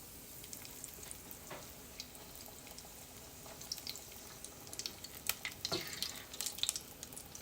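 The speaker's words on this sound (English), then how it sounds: "Just going in the oil. And I'll show you how quickly it fries." A fried mac and cheese ball dropped into hot oil, with a steady close sizzle and bubbling that grows busier and more crackly toward the end, no speech.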